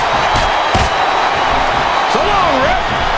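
Wrestling arena crowd in WWE SmackDown vs Raw 2007 keeps up a steady, loud roar of chanting and cheering for the whole stretch, with a couple of thuds and commentators talking over it.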